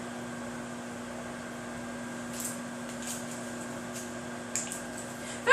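A microwave oven runs steadily while cooking shrimp risotto, its fan hum and electrical drone continuous throughout, with a few faint clicks and a sharp knock at the end.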